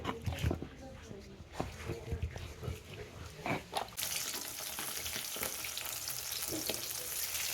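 Fresh local fish frying in a wok gives a steady sizzle with stirring clatter and scraping, nearby and moderately loud, building to a brighter, denser hiss partway through.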